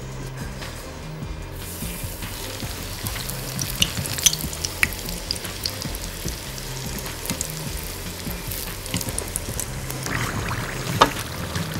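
Meat and vegetable spring rolls fry in hot oil with a steady, dense sizzle and crackle, fairly close, with occasional louder pops and a clatter of utensils near the end; no one speaks.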